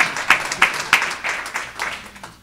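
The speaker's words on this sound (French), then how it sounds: "Il y a deux autres salves d'applaudissements." Audience at a book fair conference hall breaking into applause, a burst of sharp individual claps near the start settling into a thinner, fading round of clapping.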